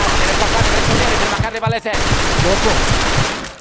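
Machine gun fire from a nest in Mafia 2, a loud, continuous rattling burst of rapid shots that breaks briefly in the middle, then resumes and fades out at the end.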